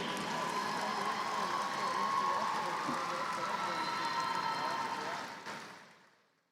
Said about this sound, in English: a big round of applause for all the selection for the 44th District All-Tournament